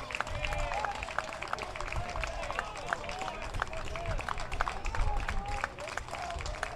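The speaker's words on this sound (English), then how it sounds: "Bearcat fans clapping here on a 2-2." Baseball fans clap in the stands during a college game between Texas A&M and Sam Houston, a steady spread of crowd applause heard under a play-by-play announcer's voice.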